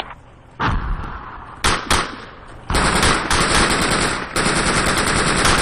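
Bursts of automatic gunfire fired at enemies during a Project Reality infantry battle, loud and close, starting with short separate volleys and then running into a sustained barrage.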